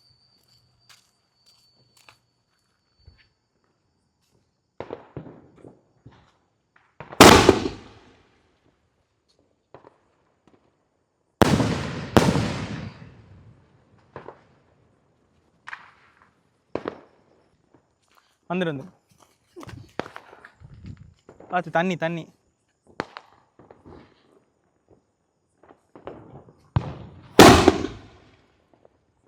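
Diwali firecracker shots go off outdoors as a few loud, sharp bangs spread across the stretch, mixed with crackling bursts, footsteps and people calling out between the blasts.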